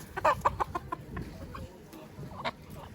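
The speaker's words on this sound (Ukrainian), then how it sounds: "Декоративні півники." Soft clucking from small young decorative Phoenix roosters at a village market, a few quick clucks near the start, then scattered chirps amid faint background chatter and noise.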